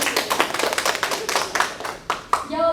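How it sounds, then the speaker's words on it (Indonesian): Several people clap by hand in a small group, a run of sharp, uneven claps that thins out toward the end, with a voice starting to speak over the final moments. "Ya, tepuk tangan dulu dong."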